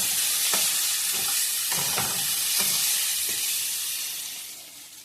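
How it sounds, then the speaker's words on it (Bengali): Potatoes and eggs fry together in a pan of hot oil with a loud, continuous sizzle. A spatula stirs through them in several regular scraping strokes before the frying fades a little toward the end. "আলু আর ডিম একসাথে ফ্রাই করে নিলাম"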